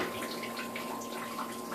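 Water trickles and splashes steadily from drip tubing in a cellar aquaponic system, a close, continuous patter with a faint hum underneath and no talk.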